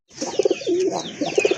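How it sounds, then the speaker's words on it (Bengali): A large female pigeon at a pigeon farm coos nearby in a short run of soft, throaty notes, clear and alone. "বিগ সাইজের একটা মাদি কবুতর"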